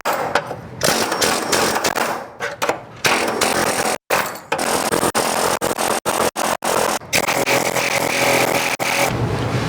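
A loud pneumatic air hammer fitted with a seam ripper bit, working on an MGB front fender panel repair, rattles continuously, cutting out briefly several times in quick stutters before resuming its harsh buzzing.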